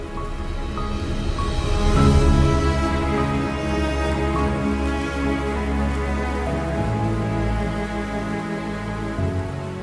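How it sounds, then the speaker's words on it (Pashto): Raindrops fall steadily on surfaces, a dense continuous patter that swells slightly early on and then holds even, with a faint underlying tonal hum throughout. "د باران څاڅکي شیبه شیبه زیاتیږي."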